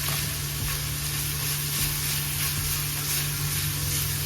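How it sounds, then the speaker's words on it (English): Sausage and onions browning in a pan give a steady, dense sizzle throughout, with faint stirring movement underneath and no talking. "finish browning up this sausage with my onions"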